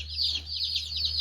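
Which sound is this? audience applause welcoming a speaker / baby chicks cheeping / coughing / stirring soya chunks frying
baby chicks cheeping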